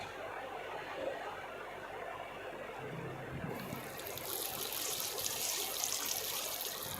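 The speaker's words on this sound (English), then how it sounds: "Go to the bathroom and splash your face." Water runs from a bathroom sink tap in Life is Strange, a soft, steady trickle that grows fuller and brighter partway through as the flow strengthens.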